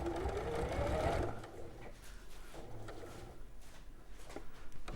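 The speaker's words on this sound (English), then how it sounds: "So we're just going to sew now up to the start of that cut." A domestic sewing machine stitching a botanicals quilt runs at a steady hum for about a second, then slows into softer, intermittent stitching and mechanical clicks, close and clear with no talk.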